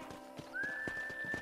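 Horses in the Red Dead Redemption video game whinny and clop their hooves, with a long, steady whistle-like tone running through the second half over a busy background.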